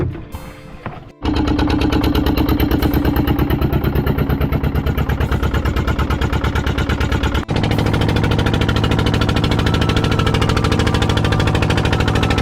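A fishing boat's engine on a rainy deep-sea trip off Sindhudurg catches after a brief rattle and settles into a loud, close, steady rhythmic chugging that continues for the rest of the clip, with a short hitch midway.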